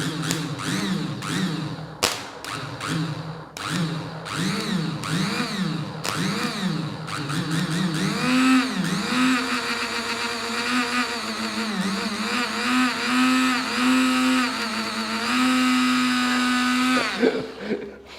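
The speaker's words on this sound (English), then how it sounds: "Oh, extremely high current power supply working so nice." A homemade high-current power supply built from an old UPS transformer drives a whining motor that swoops up and down in pitch, then holds a steady loud hum before cutting off at the end.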